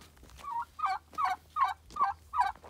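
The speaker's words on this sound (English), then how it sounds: "Got a noisy turkey." A turkey gobbles repeatedly, about five rapid warbling calls at a steady rhythm, fairly close, over a low hum.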